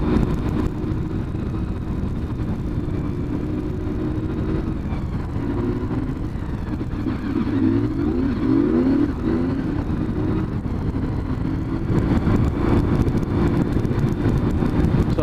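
Dense road traffic rolls by close and loud, a constant engine and tyre roar with one vehicle accelerating past midway and more swelling in near the end, no talking.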